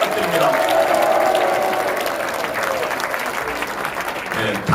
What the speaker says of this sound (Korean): 우리 고영일 상임 선대 본부장께 큰 격려박수 부탁드립니다.